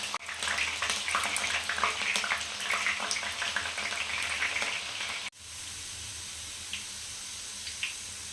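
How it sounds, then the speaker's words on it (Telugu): Onions frying in hot oil with a dense, loud crackling sizzle and occasional stirring scrapes, cut off abruptly to a quieter, steady low hiss for the remaining seconds. "ఆనియన్స్ ఫ్రై అవుతున్నప్పుడు కొంచెంగా కలుపుకోండి ఇలాగా."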